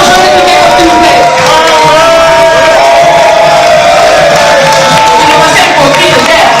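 Fashion show crowd in Kinshasa cheering and clapping for a groom and his bride on the runway, a loud continuous wash of voices, whoops and applause close by, with talk mixed into the noise.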